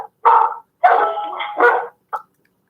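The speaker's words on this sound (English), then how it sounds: "What kind of dog do you have?" A dog barks close and loud in three bursts, the middle one drawn out into a wavering howl-like bark, followed by a short final yip; no talking.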